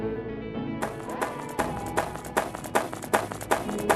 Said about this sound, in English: Hear that? It's the infected's footsteps creeping closer.